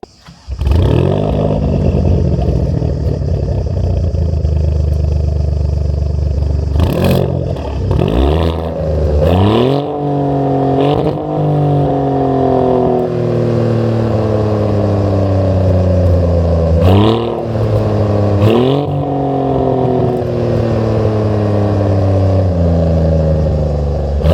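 A powerful 590-horsepower Nettuno V6 engine in a 2027 Maserati GranTurismo Trofeo revs up repeatedly, rising in pitch with each blip and dropping back between throttle bursts, loud and close with no talking.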